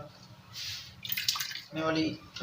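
Water splashing and running briefly over finely chopped potatoes being washed, faint and close, with a short trickle and swish, mixed with low voices in the background.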